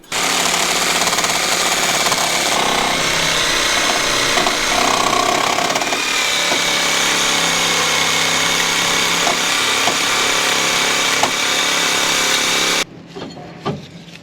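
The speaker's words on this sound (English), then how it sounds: "Cut the bushing right at the top here." A loud power tool cuts through an old rubber shock bushing on the front suspension of a 2000 Ford F-250. It runs as a harsh, continuous grinding roar close by for about thirteen seconds, then stops abruptly.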